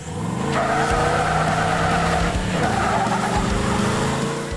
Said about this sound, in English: doing my first burnout in the car that I've built